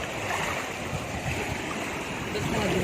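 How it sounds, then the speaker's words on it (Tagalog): Strong sea waves wash in at night along a rocky shore on a cold, windy ride stop, a faint continuous rushing surge under low background noise. "Lakas ng alon, no?"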